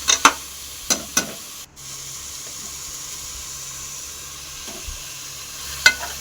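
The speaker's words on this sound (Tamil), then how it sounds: "உப்பு போட்டு நல்லா வதக்கிக்கோங்க, அப்போ தான் நல்லாயிருக்கும்" Tomatoes sizzle softly as they sauté in hot oil for a country chicken curry, with a few sharp clinks of a utensil against the pan over a steady frying hiss.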